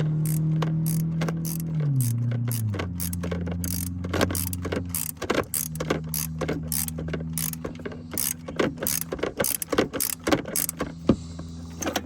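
A running engine idles nearby, then rapid ratchet clicks start, coming in quick bursts as a bolt is cranked tight, loud and close, while changing the thermostat on a GMC Savana / Chevrolet Express van.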